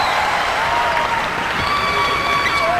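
A large crowd at a professional basketball finals game applauds a made free throw, sustained dense clapping and cheering that fills the arena steadily and loudly throughout.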